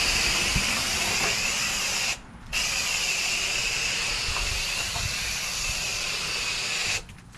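Foaming HVAC coil cleaner sprays and hisses steadily onto dirty coils, a close, loud continuous hiss that breaks off briefly once near the middle and again at the very end.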